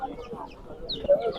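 Village chickens for sale at Sabunchu poultry market, giving a few short clucks close by amid faint background chatter and market noise.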